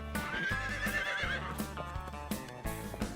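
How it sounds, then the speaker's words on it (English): A horse whinnies over a steady bed of music, with hooves clip-clopping in a regular rhythm beneath, moderately loud and continuous throughout. "Horses are amazing animals."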